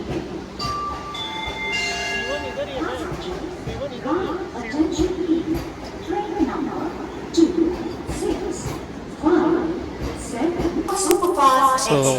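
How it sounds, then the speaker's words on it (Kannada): Vande Bharat Express train on a Bengaluru to Haveri journey, with a steady rumble and clanking running through the whole stretch, some sharp bright squeals and tones near the end, and people talking over it throughout. "ಸೊ ಇದೇ ಟ್ರೈನ್ ನಾವು ಟ್ರಾವೆಲ್ ಮಾಡ್ತಿರೋದು, ವಂದೇ ಭಾರತ್ ಎಕ್ಸ್ಪ್ರೆಸ್"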